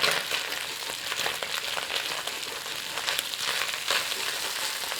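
Sauce frying and browning in a pan with onions, a steady dense sizzle close up, with faint stirring scrapes running underneath.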